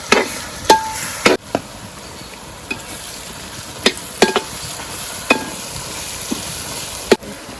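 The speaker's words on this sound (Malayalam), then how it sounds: "നമ്മളിതിലേക്ക് 3 തക്കാളി ഇട്ട് കൊടുക്കുകയാണ്." Tomatoes with turmeric and chili powder sizzling in a pan for Gobi Manchurian, with scattered sharp clacks and scrapes of a spoon stirring at irregular intervals over a soft, steady fry.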